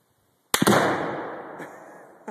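A .308 rifle shot with hand loads sets off a Tannerite target from about 70 yards or more: one sharp, loud blast with a rolling boom that decays over about two seconds, heard alone.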